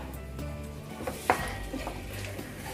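Mixed vegetables for a restaurant-style dish are stirred in a pan: soft scraping over a low background, with one sharp metallic clink of a utensil against the pan near the middle and no talking.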